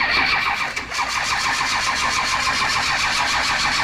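A starter motor cranks a 1965 Shelby Cobra with a 454 big block engine and a starter that sticks on, giving a loud, close, steady rhythmic whirring churn that runs unbroken throughout.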